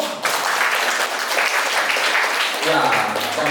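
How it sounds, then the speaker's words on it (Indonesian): Lively applause from a small gathered audience, clapping starting sharply and continuing steadily for a few seconds at fairly close range, with a hint of voices underneath toward the end. "Tepuk tangan untuk Bang Lampo."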